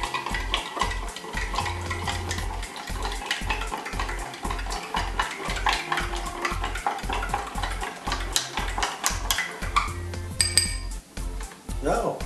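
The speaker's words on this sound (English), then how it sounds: "Now let's stir it up." A spoon stirs water in a glass with six tablespoons of added ingredient, making a steady, rhythmic clinking and swirling that continues close by for several seconds.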